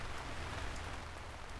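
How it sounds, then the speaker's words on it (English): Heavy rain pours during a trip in Hong Kong, a dense, steady hiss of drops hitting surfaces, close and uniform, with no voices. "it was actually raining most of the time in our Hong Kong trip"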